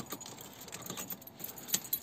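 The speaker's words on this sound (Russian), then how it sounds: "Вот, видите, вот ключ." Car keys for a VAZ jangling close by, faint irregular metallic chinks and rattles spread across a couple of seconds.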